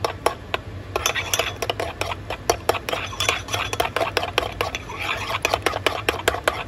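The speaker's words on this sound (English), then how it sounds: "I did measure everything and we just mix it on up" A spoon stirs and scrapes through measured ingredients in a bowl at home, giving steady clinking taps against the sides with a soft rasping swish, close and continuous.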